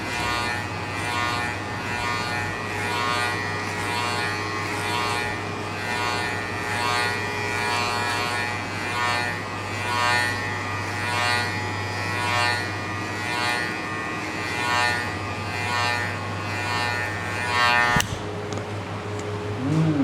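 An electric hair clipper buzzes steadily and up close through a buzzcut, a continuous drone with a slight rhythmic pulsing as it passes over the head, then a brief click and a short change in tone near the end.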